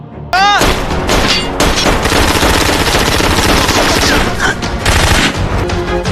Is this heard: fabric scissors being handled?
no